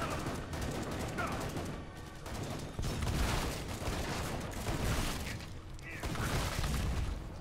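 Rapid gunfire from the co-op shooter Killing Floor 2 rattles continuously in dense, overlapping bursts at close range, with game effects layered throughout.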